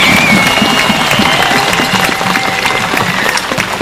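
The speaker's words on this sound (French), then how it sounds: "Je pense que vous devriez tous vous applaudir d'être là." Crowd applause at an outdoor Earth Day march, a steady dense clapping that carries on throughout, with a faint whistle-like tone threading through the noise.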